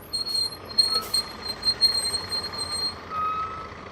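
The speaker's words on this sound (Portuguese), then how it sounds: "Esta é a voz do ônibus." A city bus pulls in with a series of high reversing-style beeps over a low, steady engine and street hum, moderately loud and close.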